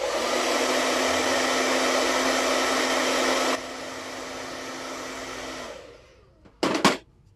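A heat tool blows a loud, steady whirring rush of air while drying craft paint, stepping down to a lower setting midway, then switching off, followed by a couple of brief clattering knocks.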